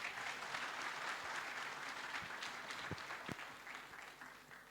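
Steady applause from an audience at a presidential youth dialogue event in Bié Province, Angola, a continuous wash of clapping at moderate distance that slowly fades toward the end.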